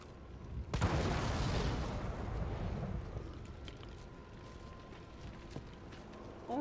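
A single gunshot in the Resident Evil 3 Remake video game: one sharp blast followed by a rumbling decay lasting about a second, then quiet game ambience.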